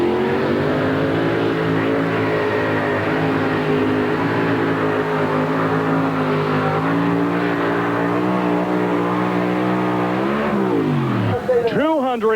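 A two-wheel-drive pulling truck, the Miller High Life Express, roars at full throttle through a 1991 NTPA truck pull in Chapel Hill, Tennessee, its loud sustained engine drone rising and falling before a sharp closing rev, with an announcer talking over it.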